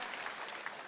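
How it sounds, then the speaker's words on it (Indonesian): A church congregation claps in a brief, faint patter of applause during an online worship service, with no talk. "Tepuk tangan buat Tuhan Yesus kita."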